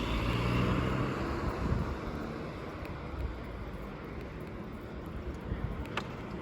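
Cars pass along a city street in Frankfurt's Dornbusch district, a steady broadband roadway rumble with wind buffeting the microphone, louder at first and then easing to a continuous hiss.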